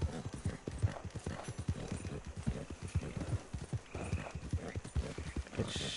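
Horse hooves clip-clop at a steady trot in the Red Dead Online video game, a rhythmic, close, evenly spaced clatter with a faint whinny, and no talk over it.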